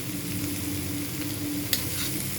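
Snake gourd and egg stir-fry sizzles steadily in a pan, a continuous close frying hiss with a low simmering hum and a brief stir sound near the end, no voices.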